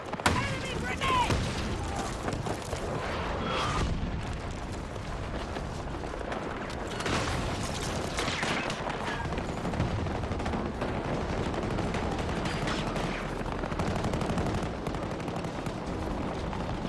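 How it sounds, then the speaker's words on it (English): Constant gunfire and a grenade explosion from the Battlefield video game form a dense, loud battle din, with shots and blasts layered throughout and speech mixed in. "Enemy grenade!"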